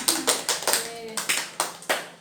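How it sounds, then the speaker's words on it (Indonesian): A group clapping hands together at a family welfare program meeting, about eight distinct claps in a slow, steady rhythm, close and fairly loud. "Yang pertama, tepuk tangan untuk kita semua"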